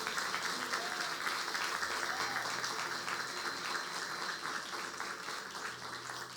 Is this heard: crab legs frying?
no